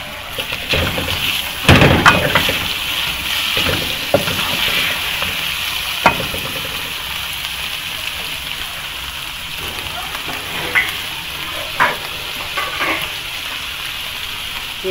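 Chicken sizzling and frying in a pan with macaroni and vegetables nearby, steady crackling hiss broken by louder scrapes and knocks of a spoon stirring, close and continuous.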